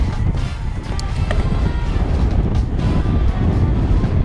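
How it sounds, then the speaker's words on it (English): Strong wind buffets a hilltop near industrial remains, producing a loud, steady rumbling roar with continuous gusting across the microphone and no clear pauses. "Pretty strong wind on the top,"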